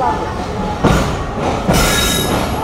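Banglabandha Express, a train with old coaches, at Rajshahi railway station, rumbling with a steady broadband roar and two sharper surges of wheel and rail noise, close and loud, with no clear voices.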